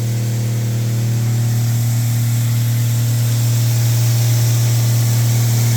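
A Lechler IDK120-05 injector sprayer nozzle runs steadily, a loud continuous hum with a broad hissing spray layer, unbroken and alone throughout.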